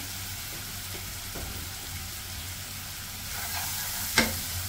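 A vegetable bhaji of beans and potatoes sizzles in a pan, with a low steady fry, occasional soft stirring scrapes and a sharp clink of the utensil near the end.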